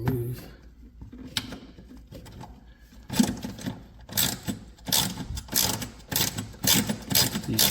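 A 10 mm ratchet backs bolts out on a Corvette during coolant reserve tank removal, giving rapid clicking runs in several close bursts after a quieter start.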